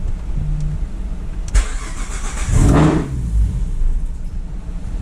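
A 3.7 V6 Mustang engine cranks briefly and catches, roaring up loudly before settling into a lower idle, close by with no talking.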